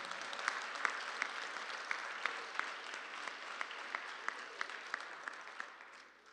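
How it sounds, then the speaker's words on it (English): A Baptist church congregation gives a round of applause after a musical performance, soft and diffuse at a distance, with a few sharper individual claps standing out in a loose, regular beat before it fades. "I think we need another round of applause for that one."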